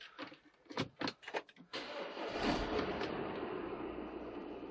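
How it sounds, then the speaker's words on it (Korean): A used Audi Q5 2.0 TDI quattro diesel cranks briefly and fires up, settling into a steady idle after a few clicks and clunks, with no talk over it. "바로 제가 이 차량 시동 한번 걸어보도록 하겠습니다."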